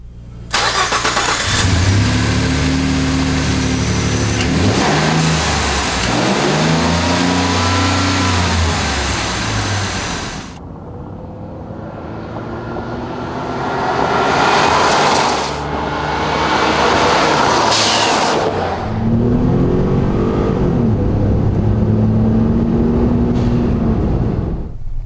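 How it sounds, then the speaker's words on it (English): Twin-turbo EcoBoost V6 in a 2011-2014 Ford F-150 fitted with an AIRAID cold air intake, revving and accelerating loudly with rising and falling engine pitch, a quieter stretch midway, then more pulls. "let's see how these twin turbos sound with a lot more air going to them."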